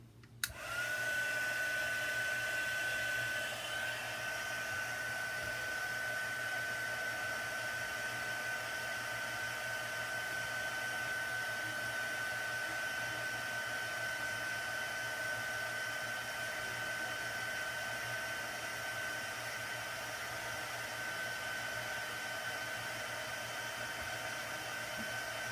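A hair dryer blows steadily over wet chalk paste for a long stretch, a loud, constant whirring hiss with a thin high whine, switching on abruptly and running uninterrupted with no voices.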